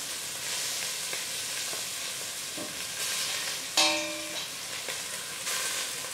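Beef tips frying in a pan for a stew make a steady, close sizzle and crackle, with light clinks of a utensil against the pan.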